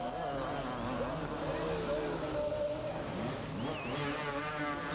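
Motocross motorcycles racing on the last lap of a 1991 US MX race, engines whining and rising and falling in pitch at a distance, with an announcer's voice running over them.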